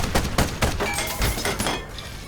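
Heavy cannon fire in the mecha strategy game Ironcast, a rapid volley of loud booming blasts and crackling impacts layered close together over about two seconds, with no talking.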